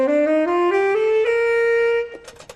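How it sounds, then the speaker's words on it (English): A saxophone plays a rising run of sustained notes, each held for a moment, loud and close, then a few short fading honks at the end. "The second wind instrument we have is the saxophone."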